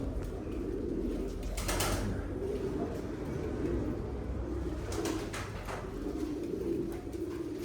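Tumbler pigeons cooing softly in a loft, a steady low warbling coo repeating under faint background noise, with a brief wing flutter now and then.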